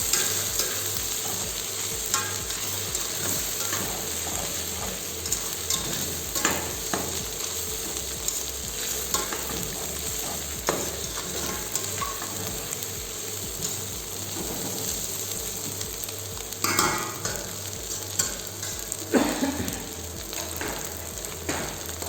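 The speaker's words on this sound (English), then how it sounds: "Once the eggs are cooked, you can mix it with the rest of the ingredients." Eggs and pad thai ingredients stir-fry in a hot pan over a gas flame, with a steady loud sizzle and repeated scraping strokes of a spatula running throughout.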